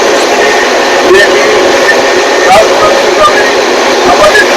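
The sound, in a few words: train running at 115 km/h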